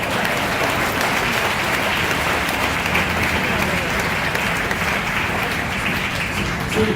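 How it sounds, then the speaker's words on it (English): A dinner audience at a ship commissioning celebration in New York City applauds steadily and loudly, a dense unbroken wash of many hands clapping throughout. "So how about a hand of applause for Ray?"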